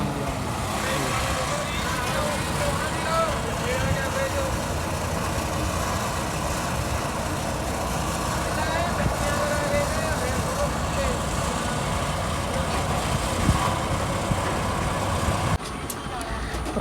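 A heavy tractor engine idles steadily and loudly throughout during a paddy harvest, a constant low rumble with faint voices underneath.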